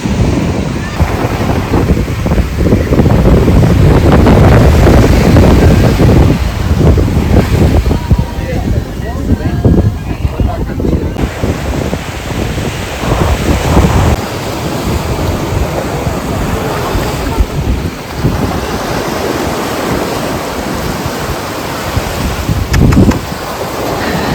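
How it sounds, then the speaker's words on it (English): Strong, steady wind buffeting the microphone with a roaring rush, mixed with surf on a beach at Jurerê, Florianópolis, Brazil; a voice talks briefly in the middle. "So windy"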